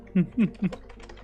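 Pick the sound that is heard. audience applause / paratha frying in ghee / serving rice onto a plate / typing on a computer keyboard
typing on a computer keyboard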